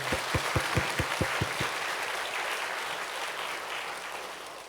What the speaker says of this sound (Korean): 다시 한번 박수로 격려해 주세요